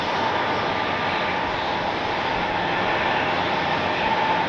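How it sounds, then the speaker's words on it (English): A Boeing 737 MAX 9 airliner taxis toward the runway at Cleveland airport, producing a steady, broad jet-engine roar that holds loud and even throughout with no talking. "See the United there in the foreground, the MAX 9 heading over to the runway."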